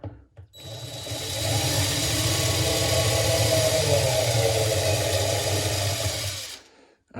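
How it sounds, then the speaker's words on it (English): A power drill runs steadily for about six seconds, boring a hole while fitting an under-sink organizer, a loud continuous whine with a low motor hum, starting and stopping abruptly. "And then I'm going to get the back one drilled too."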